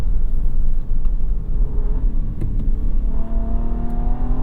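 Engine of the 2025 Infiniti QX80 in sport mode, heard from inside the cabin as a loud, rumbling drone over road noise, with a rising whine building toward the end as the vehicle accelerates.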